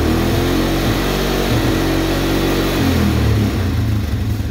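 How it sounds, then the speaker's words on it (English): An ATV engine with its throttle safety switch closed, revving briefly but held back so it fails to climb, a steady loud low drone that drops in pitch partway through. "now I try to rev it up, see how it doesn't want to go?"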